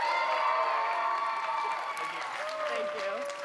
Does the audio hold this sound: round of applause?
yes